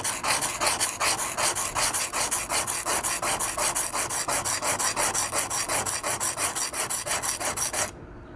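Kitchen knife with a 3mm damaged edge and tip ground freehand on a whetstone, steady rapid rasping strokes in an even back-and-forth rhythm, close and fairly loud, stopping abruptly near the end.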